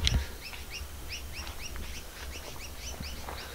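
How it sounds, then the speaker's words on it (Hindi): Small birds chirping from the trees overhead in the hills of Pithoragarh, with repeated short, bright calls spread across the clip against a soft, steady outdoor background. "ऊपर से किसी प्यारी आवाज़ आ रही है चिड़ियाओं की चहकने की"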